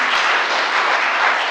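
Applause breaks out in city council chambers, a dense steady clapping from many hands that lasts the whole short moment at even loudness.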